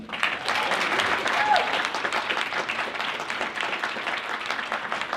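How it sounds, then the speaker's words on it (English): A live cinema show audience at a science film hackathon in Geneva gives a film music composer steady, sustained applause, with a voice speaking over the clapping. "a big round of applause for him"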